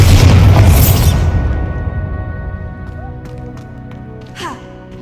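A Bombarda spell explosion from Hogwarts Legacy, an Xbox Series S game, bursts with a loud booming blast that slowly fades into a rumbling tail, followed by faint magical chimes and whooshes.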